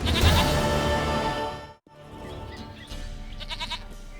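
A goat in the video game The Witcher 3 bleats in two close, wavering calls separated by a brief silence, with soft game ambience behind them.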